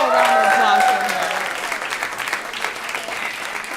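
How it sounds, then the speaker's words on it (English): A live podcast audience breaks into applause for a contestant, a burst of dense clapping that starts loud alongside a brief voice and thins out over a few seconds. "Let's put a little round of applause for her."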